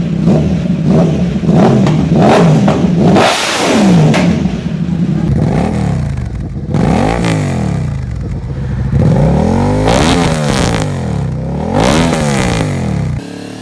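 A motorcycle fitted with a Two Brothers aftermarket exhaust revs hard and loud up close, in repeated blips that rise and fall in pitch over a rough idle.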